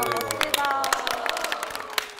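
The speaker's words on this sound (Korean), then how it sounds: "박수 한번 드려야 되겠네요" A studio audience on a Korean TV broadcast claps, a dense patter of applause with scattered individual claps and faint crowd murmur that stays fairly steady throughout.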